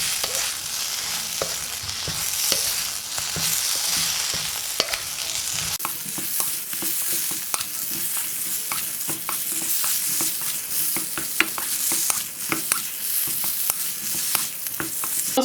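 A spoon stirs fried soya chunks through thick sizzling gravy in a pan, steady frying hiss with repeated close scraping strokes and occasional clinks against the metal, continuous throughout with no talking.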